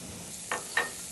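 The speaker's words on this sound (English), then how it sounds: "we got to saute the garlic and the onions" Garlic and onions sautéing in a pan for Sicilian pasta puttanesca give a faint sizzle, broken by two short, brighter bursts of stirring about a third of a second apart.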